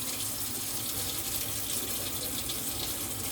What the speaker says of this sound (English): I like to run it up under some water.